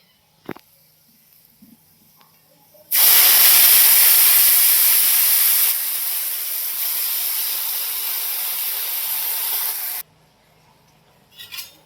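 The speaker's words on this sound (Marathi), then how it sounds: "आणि इथं आता लसूण जिरे फोडणीला टाकले तेल टाकून." Garlic and cumin tipped into hot oil for tempering, a sudden loud close sizzle that bursts in, eases slightly after a few seconds and holds steady before cutting off, with quiet surroundings before and after.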